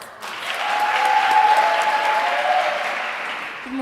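Audience at a learner-led gender-based violence prevention dialogue breaks into steady applause, a dense wash of clapping that swells and holds for several seconds before easing.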